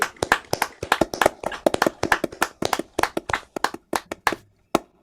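A lone pair of hands clapping in fast, even, crisp claps, close and dry, slowing and thinning out toward the end, with no voices.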